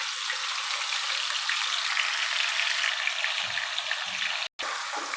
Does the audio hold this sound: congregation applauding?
no